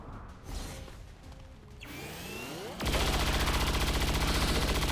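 A soldier's weapon in XCOM 2 Long War 2 lets loose a fast, loud burst of rapid-fire shots, a dense, evenly pulsing rattle that follows a short whoosh and quieter game noise.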